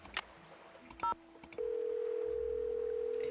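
A phone in the Nancy Drew video game Danger on Deception Island: a few short button beeps and clicks, then a steady dial tone hums without break, with no one talking.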